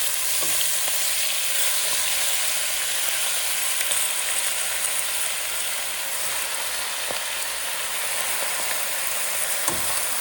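Chopped Malabar spinach crackles and sizzles in very hot oil, a steady loud hiss throughout with a few sharper pops.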